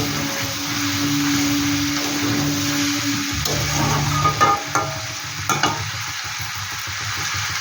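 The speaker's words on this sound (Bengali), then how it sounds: "এই মশলা দেওয়ার বাটিটা দিয়ে আমি জলটা দিয়ে দিচ্ছি" Shol fish curry with radish sizzles and bubbles in a pan as water goes in, a continuous frying hiss mixed with scraping stirs and a few sharper clinks toward the end, with no voices.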